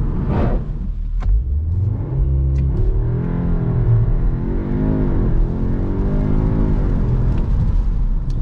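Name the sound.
turbocharged car engine accelerating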